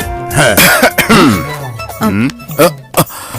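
Several close, loud coughs and throat-clearing bursts in quick succession, mixed with a voice.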